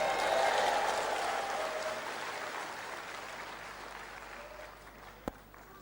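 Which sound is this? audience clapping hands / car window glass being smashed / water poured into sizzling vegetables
audience clapping hands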